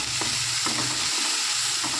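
Chopped onions and tomatoes sauté in a hot pan for a prawn fry, giving a steady, close sizzle broken by a few soft scrapes of stirring, with no voices.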